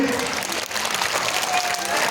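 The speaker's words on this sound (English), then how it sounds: "give a big round of applause for their service today" Brief burst of audience clapping at a school alumni gathering honouring visiting doctors, fairly dense and even for about two seconds with some crowd murmur mixed in.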